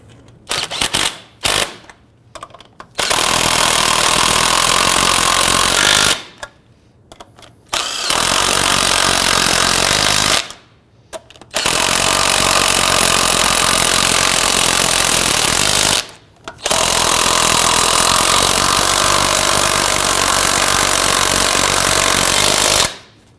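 A power impact tool drives the wheel lug nuts down on a 1997-2006 Jeep Wrangler. Four long, loud, rattling bursts are broken by short quiet pauses, with no voices.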